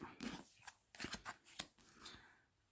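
Tarot cards being handled and stacked for a reading, heard close up as a quick run of papery slides, flicks and soft taps, irregular and fairly quiet, with no voice.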